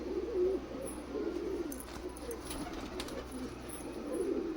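Pigeons coo softly in a low, repeated murmur, with several birds overlapping and a few faint chirps above.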